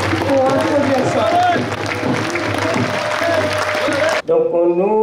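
A political rally audience at a summer university meeting bursts into loud, sustained applause and crowd noise with shouting, cut off abruptly near the end as a voice takes over.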